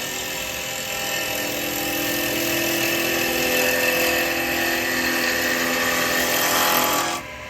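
Woodturning gouge starting a cut on a spinning lathe workpiece, a steady broadband whirring scrape held close and loud for several seconds before cutting off abruptly near the end.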